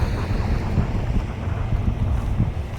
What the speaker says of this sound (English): I hope you can hear me with the wind.